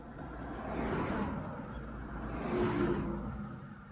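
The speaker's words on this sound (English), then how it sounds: "car's about to drive by" A single car drives past on a road, its broadband whoosh swelling twice as it approaches and recedes, fairly close and moderately loud, with no talking over it.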